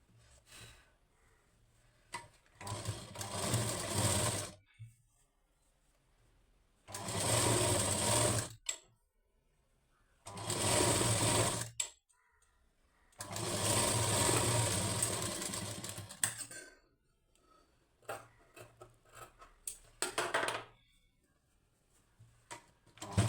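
A sewing machine stitches a blouse lining, running in several loud motorized bursts of a few seconds each, separated by quiet pauses while the fabric is folded and repositioned.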